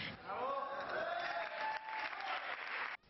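Crowd applause at Jorge Lorenzo's MotoGP world title celebration in Palma: continuous, dense clapping from a large gathering, steady throughout and cut off abruptly at the end.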